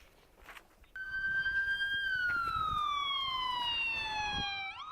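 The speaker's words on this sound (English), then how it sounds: "Sirens blaring in broad daylight for the second afternoon in a row." A police car siren in daylight rises up suddenly and holds a loud wailing tone that slowly falls in pitch, with faint street noise beneath it before it starts.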